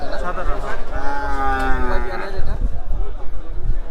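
A Holstein cow or calf moos loudly and close by at a rainy cattle market at Hazratpur, one long drawn-out call while people talk nearby.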